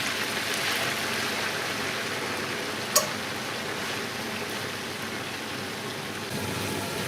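Chicken chunks for cumin chicken fry in hot oil, giving a steady, close, even sizzle with one sharp pop partway through and no talking.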